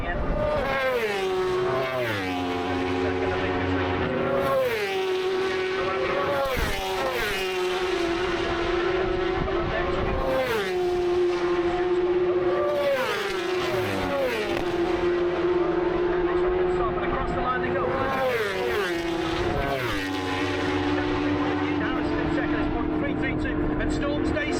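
Race cars closing in through the Juniper chicane, their engines loud and continuous, with pitch repeatedly dropping and climbing through gear changes over several passes.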